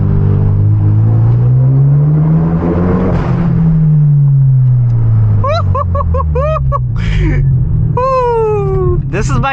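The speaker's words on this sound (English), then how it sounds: "when I redline on 2nd gear now, it pops. It burble pops." A 300-horsepower coupe revs hard toward redline in second gear, its engine note climbing and falling in a loud, close drone, followed by a run of sharp crackling exhaust burble pops.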